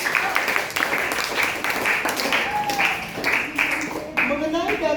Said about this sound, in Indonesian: Oke, tepuk tangan untuk kelompoknya Intan.